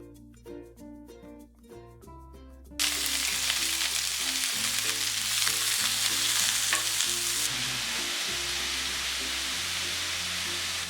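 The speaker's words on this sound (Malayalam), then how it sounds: "ഈ എണ്ണ ചൂടായി വരുമ്പോഴേക്ക് 2 സവാള സ്ലൈസ് ചെയ്തത് നമുക്കിതിലേക്കിട്ട് വഴറ്റി കൊടുക്കാം" Two sliced onions hit hot oil for a lobster masala, bursting into a loud, steady sizzle after about three seconds and crackling on continuously over background music.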